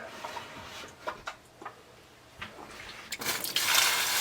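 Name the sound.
pouring chicken broth into soup pot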